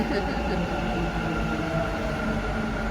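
A metro train pulls in on the opposite track at an underground-style station, a steady low rumble and rolling hum that stays moderately loud throughout, with faint voices mixed in.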